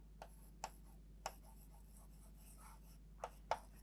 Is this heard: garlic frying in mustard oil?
no